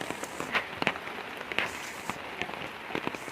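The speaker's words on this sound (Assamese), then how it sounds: "ইমান বৰষুণ দিছে হ'লেও ভিডিঅ' কৰিছোঁ" Steady rain patters on a hard surface nearby, with frequent distinct drops tapping irregularly over a constant wash of noise.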